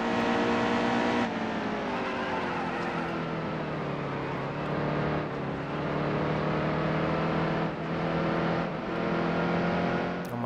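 A racing truck engine in the NASCAR Heat 2 video game at New Hampshire drones loudly and continuously, with pitch climbing and dropping through gear changes and corners, with no talk over it.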